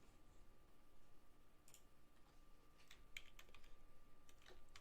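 Someone types a password on a computer keyboard, a quiet patter of scattered key clicks close by, irregular and faint, with a few sharper taps toward the end.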